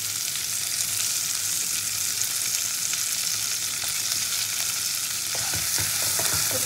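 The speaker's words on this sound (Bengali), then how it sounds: "পেঁয়াজটাকে খুব ভালো করে একটু ভেজে নেব।" Chopped onion frying in hot oil in a pan for a tangra fish curry, a steady close sizzle with occasional stirring scrapes near the end.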